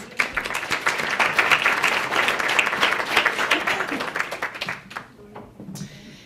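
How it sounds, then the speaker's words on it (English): Audience applause at a volunteer recognition dinner held by a county aging division: dense, sustained clapping that carries for about five seconds, then thins out into a few scattered claps and fades. "So give yourself a round of applause."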